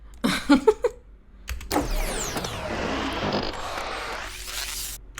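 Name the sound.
sci-fi mechanism powering on, heavy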